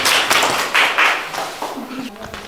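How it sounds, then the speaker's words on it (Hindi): Children's quiz audience clapping for a correct answer, a short burst of loud applause with uneven claps that thins out within a couple of seconds, with a voice speaking over it. "इनके लिए एक जोरदार ताली होना चाहिए और प्राइज भी।"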